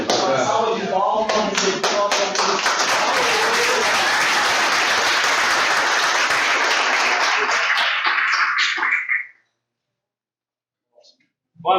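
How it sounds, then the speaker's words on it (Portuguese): An audience at a Scrum meetup in Belo Horizonte gives a round of applause, dense and loud with some cheering voices, stopping abruptly, followed by a brief silence before a voice starts. "Vamos lá, uma salva de palmas."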